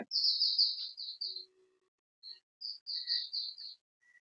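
Birds at a deer park sanctuary in Bardhaman give a series of high, clear chirping calls in two bursts separated by a short silence, fairly close and heard alone against a quiet background.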